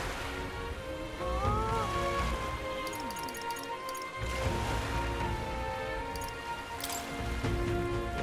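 Steady rain falls in the fantasy video game Metaphor: ReFantazio, a continuous broadband hiss mixed under sustained tonal game music and occasional light tinkling accents.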